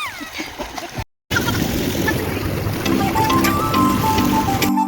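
Children splashing in a resort swimming pool at Club Mahindra Tungi, Lonavala: continuous watery splashing and churning with lively voices mixed in, broken by a brief gap of silence.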